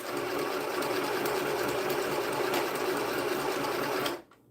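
A sewing machine runs steadily at a close, even level for about four seconds, then stops abruptly, leaving near silence.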